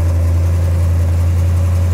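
A 1969 Hurst/Olds convertible muscle car engine idling close by, a loud, steady, deep rumble with an even low throb and no talk.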